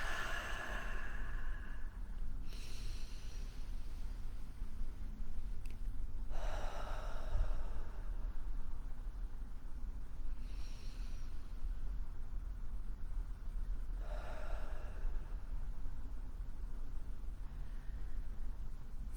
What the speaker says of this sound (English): just breathe deep in through your nose and out through your mouth